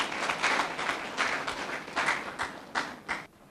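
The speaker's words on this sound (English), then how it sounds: "Please give him a round of applause." A short, thin round of applause at a psycho-trauma healing course graduation ceremony, a few people clapping in uneven bursts that fade out within a few seconds.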